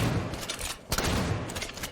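Rapid shots from a weapon in Halo 5 fire in quick succession, loud and close, with a sharp crack near the middle amid continuous dense battle noise.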